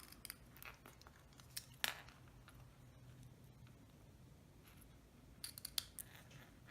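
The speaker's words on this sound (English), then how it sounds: "I can then go back with my ribbon scissors" Small ribbon scissors snip ribbon ends during a Valentine card craft, giving a few quiet, sharp cuts spread apart in a hushed room with no talking.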